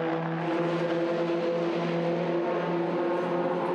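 British F3 race cars from the Cooper Tires British F3 Championship cross the line with a steady, loud engine drone and a sustained high whine. No one speaks.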